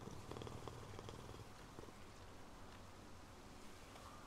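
A cat purring in the video game Hades II, a soft, continuous rumbling purr, faint and close, with light game ambience beneath and no talking.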